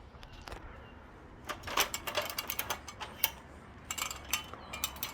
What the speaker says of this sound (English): I'm just unscrewing them using these vice grips. And as I go, round and around, it slowly comes out.